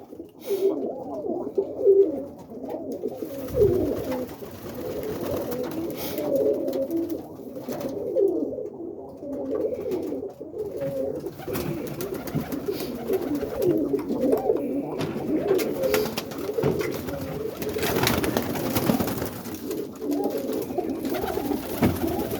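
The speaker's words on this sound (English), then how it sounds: "Boston ripping rollers, checking out the birds." Soft, throaty cooing from several roller pigeons, overlapping and continuous, with some fluttering and shuffling nearby.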